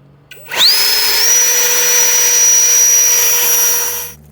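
A Hellsehen cordless leaf blower with adjustable wind speed spins up quickly into a loud, steady motor whine, steps up slightly in pitch shortly after, then runs evenly for about three seconds before cutting off.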